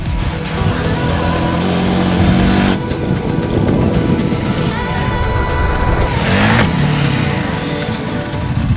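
A Royal Enfield Himalayan 450 motorcycle rides off-road across a dried-up lake bed, its engine droning loudly and steadily with rising and falling revs, wind and rumble mixed in throughout.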